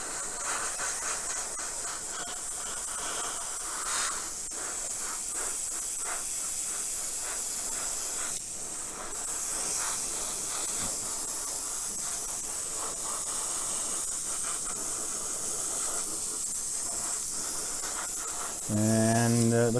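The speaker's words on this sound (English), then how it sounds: "And now we're going to take our top and just spray it with this concoction." Thinned paint hisses steadily from a spray can or airbrush onto a 1/25 scale Shelby EXP 500 model car body, a continuous close airy spray with brief pauses and no talking.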